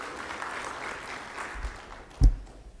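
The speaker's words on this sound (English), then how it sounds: "big round of applause" A conference audience applauds a keynote speaker at an insurance event, a moderate patter of clapping that fades toward the end, with a sharp thump partway through.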